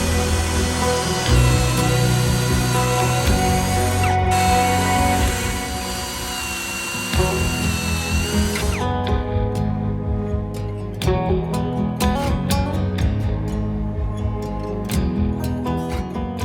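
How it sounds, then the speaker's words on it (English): A drill boring pocket holes into vertical wooden boards held in a Kreg pocket hole jig, as part of a garden gate build. It sounds as a loud, steady whine for about nine seconds, then as a series of shorter, choppier bursts with clicks and knocks, and there is no talk. "we're going to be using our Craig pocket hole jig to put pocket holes in each one of these vertical boards"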